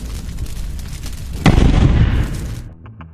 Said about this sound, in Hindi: इसे तोप से उड़ाया जाए।